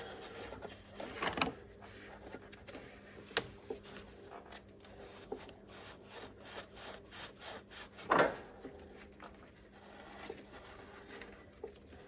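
Dry scraping and rubbing on a corroded coolant hose fitting of a Ford F-150, covering a T connector with a coolant leak. Irregular, close, faint strokes sound throughout, with a couple of sharper scrapes standing out, and no speech.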